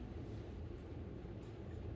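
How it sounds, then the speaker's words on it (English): A train runs steadily toward its last stop, a low continuous rumbling roll with faint rattling, quiet and unbroken throughout with no voices. "Now the train is going to its last stop."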